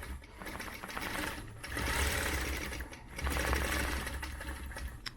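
A sewing machine stitches fabric guided along a quilting ruler in looping circle patterns, running in close, steady bursts that swell and ease over several seconds.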